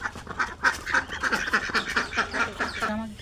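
Domestic egg-laying ducks quack repeatedly and loudly up close, a flock of overlapping nasal calls in an uneven rhythm.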